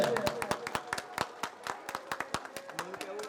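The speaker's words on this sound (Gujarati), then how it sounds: "તાળીઓ પાડજો ભાઈ" Scattered handclaps from an audience at a Chamunda temple Dhajadana Mahotsav festival gathering, a dense run of sharp irregular claps close by, with some voices murmuring underneath.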